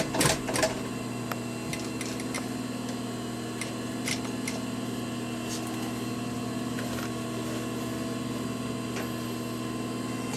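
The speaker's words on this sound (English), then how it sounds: "we can do 2 or 3 stitches before we have the bump" A sewing machine runs steadily on leather for a handmade journal, giving a continuous mechanical hum with regular ticking stitch beats and a few sharper clicks near the start, close and alone without voices.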